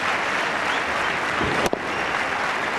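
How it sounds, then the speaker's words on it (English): A cricket crowd in a stadium at an India versus England match applauds in a loud, dense, continuous wash of clapping, broken briefly by a sharp click near the middle. "Now the applause starts."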